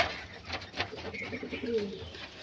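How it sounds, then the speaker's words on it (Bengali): Domestic pigeons, including older white birds, coo softly in a loft at home, several low throaty calls in short bursts, close and fairly quiet, with light rustling around them. "এই যে এগুলো খুব ভালো পায়রা"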